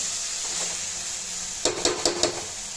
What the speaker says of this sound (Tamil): சோயாவை சேர்த்துட்டு நல்லா எண்ணெயிலே ஒரு ரெண்டு நிமிஷத்துக்கு அதே பரட்டி விடுங்க